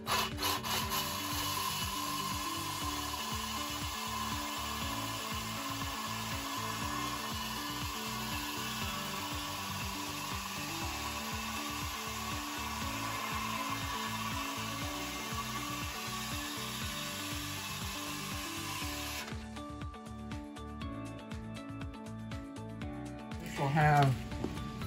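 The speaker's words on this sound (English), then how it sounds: "I've got a masonry bit here." A masonry bit drills a hole through the bottom of a DIY water feature container to take a PVC pipe fitting: a steady, rough grinding whir that holds for about twenty seconds, then shifts to a harsher, more broken scraping.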